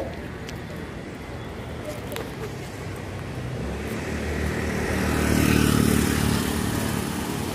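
Motorbikes and cars pass along a road during a lockdown, a continuous traffic rumble that swells as a vehicle draws near and then fades, with faint background noise and no clear talk.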